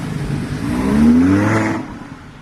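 A Lamborghini sports car engine revs up with a rising, whining pitch, swelling loud as it passes close, then fading away, in Portorož.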